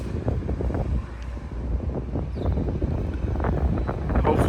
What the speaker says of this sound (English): Sorry for the wind today if it's a little windy.